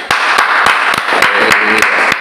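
Applause with a few sharp, regular claps standing out breaks out during an Indonesian studio interview, steady and fairly loud throughout, with a voice briefly heard beneath it.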